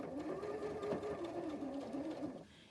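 A sewing machine stitches fabric just off a marked line, its motor giving a steady, close whirring hum for about two and a half seconds before stopping abruptly; no one speaks.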